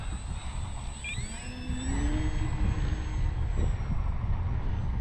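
X-Fly Tasman RC plane on its maiden flight taking off into the wind, a thin rising electric motor whine with gliding tonal sweeps over outdoor wind rumble.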